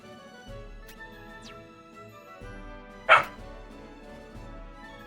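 Dogs barking, a single loud bark standing out over music-like tonal background, with a couple of fainter, brief yips earlier.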